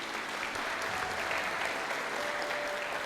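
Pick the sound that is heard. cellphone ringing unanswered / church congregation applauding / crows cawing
church congregation applauding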